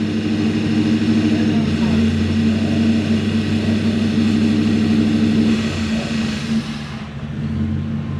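Toyota Celsior / Lexus LS400 engine running close by with a steady droning hum and faint rev changes, dipping near the end, while voices talk over it.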